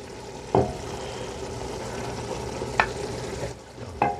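Tomato paste going into a hot pan for Bolognese ragù, with a steady low sizzle and a few sharp scrapes and stirring knocks of a utensil against the pan.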